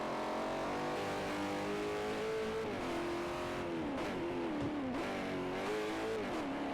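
Ferrari 458 race car engine in the racing game Forza Motorsport 4, a steady high-pitched howl that rises and dips with gear changes, continuous and close throughout.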